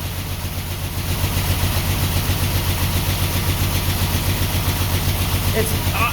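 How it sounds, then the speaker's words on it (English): 1949 Ford F1 truck engine idling steadily while missing on one cylinder, giving a continuous uneven low chugging rumble close by that runs unbroken throughout. "I'm going to let it run and see if that fuel pump overflows into the engine and floods it out."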